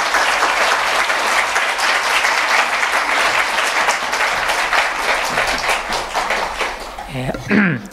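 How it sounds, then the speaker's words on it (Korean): A congregation at a Korean Sunday church service gives loud, sustained applause to welcome a guest professor coming up to preach. The clapping fades near the end as a voice begins to speak. "나오실 때 사랑과 축복의 박수로 환영하겠습니다."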